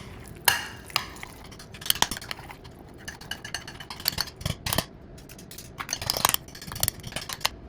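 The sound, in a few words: mixing mango sauce in a bowl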